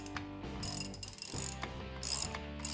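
A ratchet works a nut loose on a Triumph 650 motorcycle engine, giving a run of close, fast mechanical clicks in short bursts with brief pauses between strokes, sharp and up close in a workshop.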